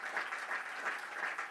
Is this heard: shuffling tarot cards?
no